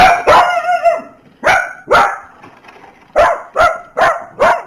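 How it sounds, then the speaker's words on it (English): A dog barks repeatedly and loudly near an officer's body camera at a house: about eight sharp, close barks in uneven bursts with brief quiet gaps between them. "He won't stop barking."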